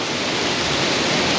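Upper Coquille Falls on the Rogue River roars in a dense, unbroken rush of falling water, loud and close with no other sounds.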